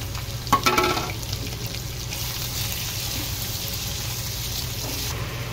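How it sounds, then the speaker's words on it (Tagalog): Pork liver with garlic and onion sautéing in a pan, a steady close sizzle with a few brief clatters and stirring scrapes near the start. "Gigisahin muna natin yung bawang at sibuyas. Lagay na natin tong atay."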